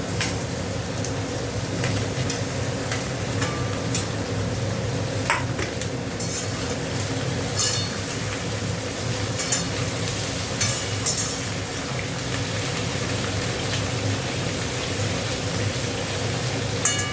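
Potato, eggplant, pumpkin and bitter gourd fry in a pan with fish, giving a steady low sizzle with occasional stirring scrapes and light utensil clinks, close and continuous.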